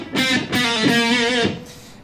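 An electric guitar with an effects unit and distortion plays a short lick, a few sustained, bending notes over about two seconds, loud and alone.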